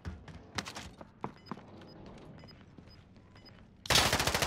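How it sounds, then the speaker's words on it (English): Gunfire in the Call of Duty Warzone video game: a handful of scattered distant shots and single cracks, then a loud close burst of rapid automatic fire at the end. "Ooh, he tried to shoot at me."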